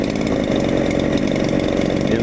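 A ported Sugihara chainsaw idles low with its idle turned down, a steady, close, continuous two-stroke burble that runs unbroken from start to finish.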